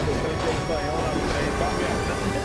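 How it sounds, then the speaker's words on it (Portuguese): A train rushes past in the Call of Duty: Modern Warfare Verdansk map, a steady loud rumble with rail screech running throughout beneath excited talk. "Esse trem passou rápido pra caralho!"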